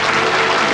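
An audience applauds at the Miss France pageant, a dense, loud, even wash of clapping filling the whole brief moment with no pause.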